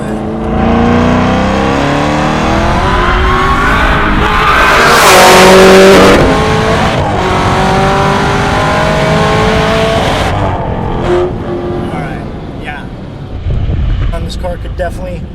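A 1200 HP Exorcist Camaro ZL1 street car accelerates hard at wide-open throttle, its engine loud and close, rising and surging through the run with a brief tire squeal and someone talking over it.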